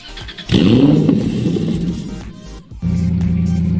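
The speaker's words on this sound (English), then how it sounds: "So this car has a supercharged V8 in it, and the sound just explains itself" A Ford GT with a supercharged V8 in the Driving Empire video game revs loudly and accelerates, a rising engine roar that dips briefly and then returns as a steady drone, alone without talk.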